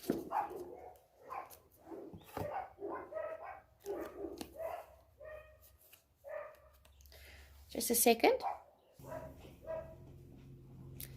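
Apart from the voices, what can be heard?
dogs barking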